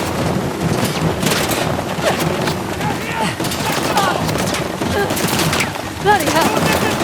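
Sustained gunfire rattles through a firefight in the game Uncharted: Legacy of Thieves, with dense overlapping bursts and shots continuing throughout under wind-like noise and shouted voices.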